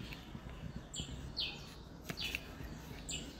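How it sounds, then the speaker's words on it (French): Small bird chirping indoors in an apartment, a few brief high chirps spaced across the moment over a faint room hiss, fairly close and soft. "Bonjour, petit oiseau."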